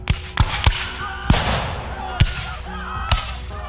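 French arquebus gunshots in a battle scene, several sharp loud cracks spaced irregularly over a rumbling background.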